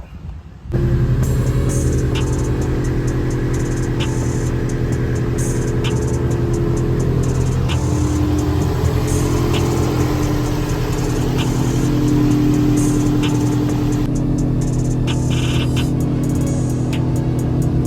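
A Subaru STI engine fitted with a new catback exhaust drones steadily and loudly while driving on the road, a continuous close rumble with slight swells in revs and no talking.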